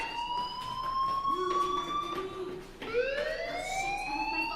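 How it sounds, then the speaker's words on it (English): A school fire alarm in the video game Life is Strange wails continuously with rising and falling tonal sweeps, loud and steady throughout with no talk. "Hey, do you hear that fire alarm?"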